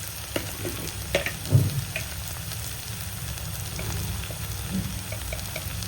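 Garlic and ginger frying in oil for an idli chutney give off a soft, steady sizzle close by, with a few faint clinks of stirring and no talk.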